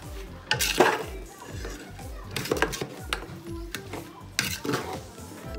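A utensil stirs and scrapes bihon rice noodles in a metal pan, with repeated clinks and scrapes in bursts over a low background sizzle, close up, no speech over it.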